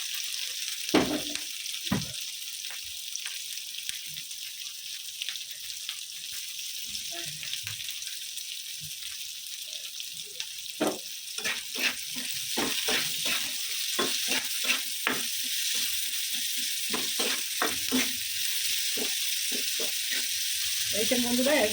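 Salted, boiled potatoes fry in a small amount of oil for biryani, a continuous hiss of sizzling broken by frequent spatula scrapes and stirring clatter that grow busier and louder toward the end.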